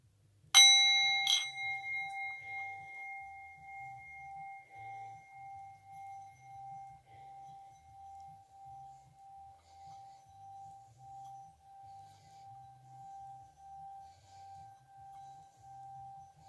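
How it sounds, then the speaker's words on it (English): A metal singing bowl is struck twice in quick succession during a Sagittarius tarot reading. A clear, bright ring follows and sustains as a long, slowly pulsing hum that lingers steadily, with faint low background noise beneath. "I'm also going to cleanse by sound with the singing bowl"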